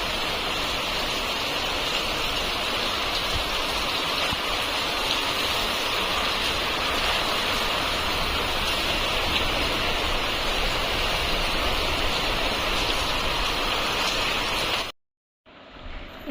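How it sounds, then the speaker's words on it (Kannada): A sudden heavy rain downpour roars as a dense, loud, unbroken wash of noise for about fifteen seconds, then cuts off abruptly near the end. "ಯಪ್ಪ, ಎಷ್ಟು ಸಡನ್ಲಿ ಇಷ್ಟು ಜೋರು ಮಳೆ."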